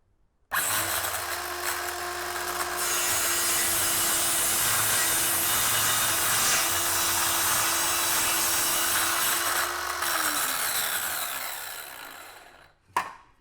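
Cordless power saw cutting a wooden plank along a guide, a loud, steady whining buzz for about ten seconds from start to finish, with the motor spinning down at the end.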